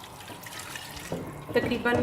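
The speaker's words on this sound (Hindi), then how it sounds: "2 कप के करीब पानी ताकि आलू गल जाएं।" Water pours into a cooking pot holding potatoes for an egg and potato curry, a short splashing fill that rises toward the end while a person speaks briefly over it.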